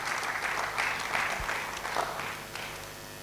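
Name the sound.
audience round of applause welcoming guest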